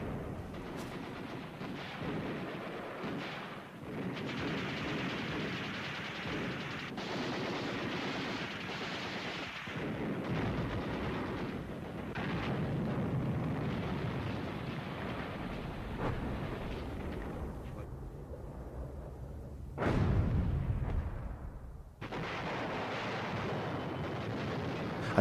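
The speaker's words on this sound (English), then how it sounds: "A heavy intervention from the artillery paved the way for a decisive infantry assault against the hill." A heavy WWII artillery bombardment in the Battle for Tunisia sounds as a dense continuous roar of gunfire and blasts. One loud explosion stands out near the end, with no talking.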